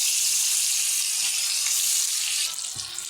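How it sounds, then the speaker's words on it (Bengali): Fish coated in salt and turmeric frying in oil in a wok, giving a steady, loud broadband sizzle that softens slightly near the end, with a faint low clunk; no voices. "এখন আমি মাছগুলো ভেজে নেব"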